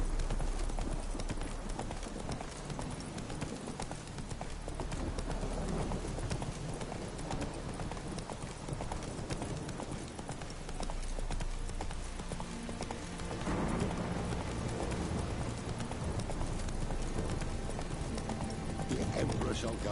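Roach the horse trots with steady clip-clopping hooves in The Witcher 3, a continuous rhythmic gait over dense game ambience and music, with some character speech mixed in.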